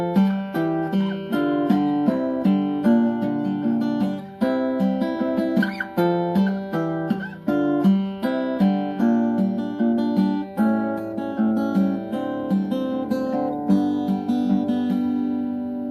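Acoustic guitar playing the chorus of a song, fingerpicked notes and chords ringing out steadily and up close, played alone with no talking.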